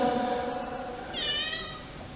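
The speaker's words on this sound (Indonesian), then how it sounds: "Nah, kucing ini." A cat gives a single clear, drawn-out meow partway through, heard faintly in a fairly quiet space.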